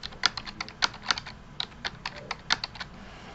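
Fingers tap quickly on a calculator keypad, a close run of light plastic clicks at an uneven pace over a few seconds, with no voices.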